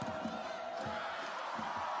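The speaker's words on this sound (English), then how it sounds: "Just the roar to the crowd." A beach volleyball crowd at a gold-medal match in Brasilia, 2024, lets out a steady, fairly distant roar, a broad wash of voices with a few louder swells.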